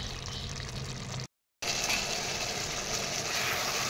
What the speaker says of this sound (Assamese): এতিয়া মই আৰু উতলিব দিম